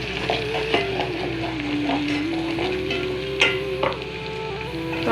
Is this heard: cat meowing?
no